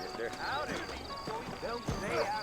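Rhythmic clip-clop of saddled horses' hooves at a walking pace in the video game Red Dead Redemption 2, heard under continuous talking voices.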